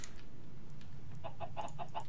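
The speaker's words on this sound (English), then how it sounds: "Can you get out of the way, you stupid chickens?" Chickens in the Minecraft video game clucking in short repeated bursts, several quick calls in a row, fairly faint over a steady background.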